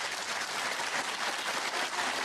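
A Belfast snooker crowd at the 2017 Scottish Open applauds Lukas Kleckers' century break, with steady, dense clapping from a full arena that holds evenly throughout.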